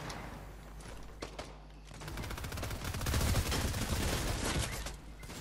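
A fully upgraded SMG fires in Fortnite's Knockout mode: rapid, dense bursts of automatic gunfire that grow louder in the middle, with a few isolated single shots at the start.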